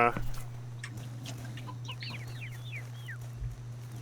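Chicken-like clucks and chirps from creatures in the game CHKN, several quick calls bunched in the middle over a steady low hum, with a voice talking faintly at the start.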